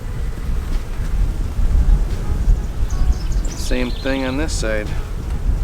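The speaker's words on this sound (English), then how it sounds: "now the wind's picking up." Wind gusts blowing outdoors during a beehive inspection in Minnesota, a steady broadband rush running the whole time beneath a man's brief speech near the end.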